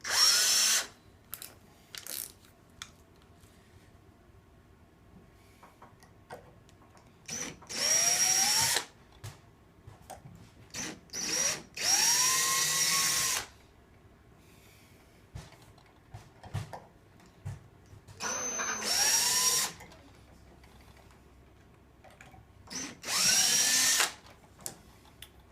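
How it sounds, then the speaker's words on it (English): A power drill bores all the way through wood in four sustained whirring runs, with short pauses and small clicks and knocks between them, close and loud. "This time you drill all the way through the wood."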